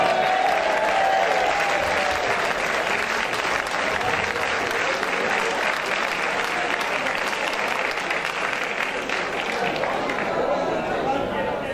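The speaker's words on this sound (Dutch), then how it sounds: "Ik ga hard voor hem klappen" An audience at a farewell event for a member of a music association claps loudly and continuously, a dense, even wall of applause lasting the entire stretch with faint chatter underneath.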